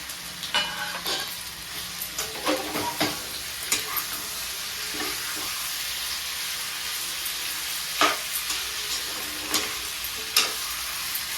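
Chicken frying with softened tomatoes in a pan gives a steady broadband sizzle, with several sharp stirring clicks and scrapes spaced through it, all close and moderately loud with no talking.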